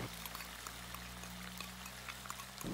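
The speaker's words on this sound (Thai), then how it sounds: "เมื่อหมูของเราเริ่มสุกแล้วครับขั้นตอนนี้เราใส่น้ำซอสลงไปเลยครับ" Sauce poured onto pork cooking in a pan for a sweet and sour stir-fry, a steady close liquid splash and sizzle lasting nearly three seconds before it cuts off.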